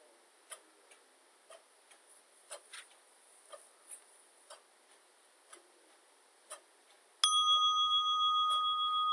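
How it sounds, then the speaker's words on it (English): A meditation bell rings out clearly near the end and its tone sustains and slowly decays, after a quiet stretch of faint, irregular soft ticks. "At the sound of the bell, this will conclude today's meditation."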